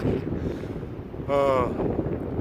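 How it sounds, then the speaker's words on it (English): Wind gusting across an open beach by the sea, a steady rumbling buffet on the microphone with a short voiced exclamation midway. "I'm out of the wind a little bit. I've got my hands in the wind."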